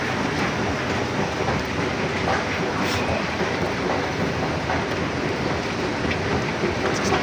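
A metro train rumbles through a station on the Qatar metro, with a steady, loud, broadband roar and faint rail clatter that holds constant throughout, with no talking.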